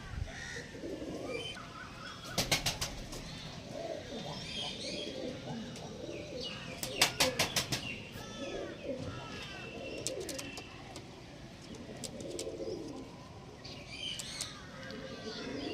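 Young Kalshira and Phulshira tournament pigeons keep up a stream of nearby throaty coos, joined by sharp chirps and a few quick clattering bursts like wing flaps, with no voices.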